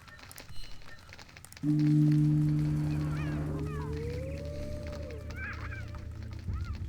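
In The Witcher video game, a bird lets out a long, loud, steady honk that bends upward in pitch and holds for several seconds against faint ambient background noise.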